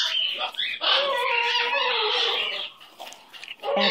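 A pet bird chatters and squawks up close in a loud, continuous run of calls, pausing briefly before starting again.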